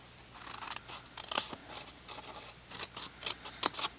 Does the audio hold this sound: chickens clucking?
no